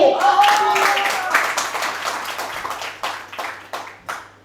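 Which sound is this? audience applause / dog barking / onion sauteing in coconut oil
audience applause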